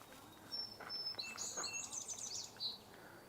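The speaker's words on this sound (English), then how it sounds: "Another song sparrow." A song sparrow sings at a marsh in the early morning, a short, bright phrase of chips and trills, moderately distant against a quiet background.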